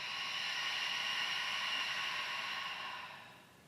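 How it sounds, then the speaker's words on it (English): A long, steady ujjayi pranayama exhale, a soft breathy hiss held close to the microphone for about three seconds before tapering off, with no talking. "Exhale out the mouth. Inhale, nose or mouth. Exhale, nose or mouth."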